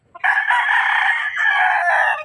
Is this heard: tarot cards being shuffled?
no